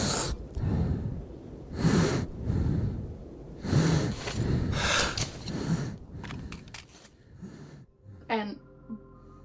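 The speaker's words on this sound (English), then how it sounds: "the gas mask breathing sounds getting faster and louder over time as the filter ran out" Heavy breathing through a gas mask in Metro 2033 rises and falls in about five labored cycles, close and muffled, before a brief clatter near the end.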